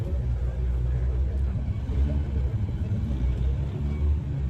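A rock crawler works through a competition course with a low, steady engine rumble and drivetrain drone that stays loud and close for the whole stretch.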